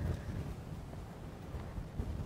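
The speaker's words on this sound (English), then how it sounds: "it is very, very windy." Strong wind buffeting the microphone on an open safari drive in the Sabi Sand bush, a steady low roar that gusts throughout, loud and close with no voices.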